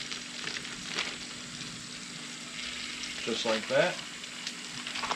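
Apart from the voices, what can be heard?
burgers and onions sizzling in a cast iron pan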